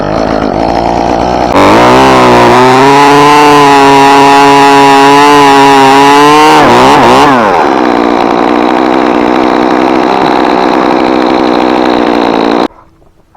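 Chainsaw revving loud and steady while cutting storm-damaged limbs from a veteran spruce tree, the engine note dipping and surging mid-cut before cutting off abruptly near the end.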